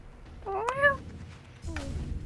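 A person imitates a cat meowing during a game-tournament voice chat, giving two drawn-out, rising-and-falling meows close to the mic, the first longer and louder, the second softer.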